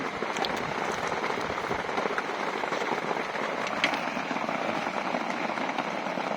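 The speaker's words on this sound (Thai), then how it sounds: "นอนฟังเสียงฝนครับ" Steady rain pours down, a dense, even hiss of drops pattering on surfaces with no pauses throughout.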